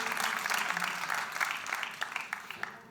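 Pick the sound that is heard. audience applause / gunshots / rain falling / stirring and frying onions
audience applause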